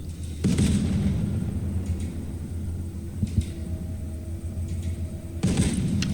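A warship's heavy guns fire in the Broken Arrow war game, three deep booms spaced a few seconds apart, each followed by a sustained low rumble.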